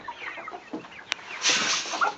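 Chickens clucking close by while being fed corn, a short run of busy, overlapping clucks and scratching with a louder burst of activity near the end.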